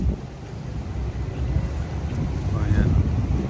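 Boat on open water in Venice, Italy, with steady broadband wind rumble and water wash, and a faint tonal whine near the end.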